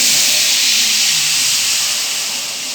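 Sugar syrup poured into a hot pan of roasted semolina for halwa, giving a loud, steady, close steam hiss that fades slightly toward the end.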